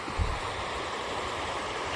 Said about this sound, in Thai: หมายน้ำไหลคลองธรรมชาตินะ